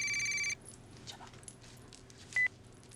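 A telephone rings in a home during a Cantonese family drama, a short electronic ring burst at the start and another brief tone later over quiet room noise, with no talk.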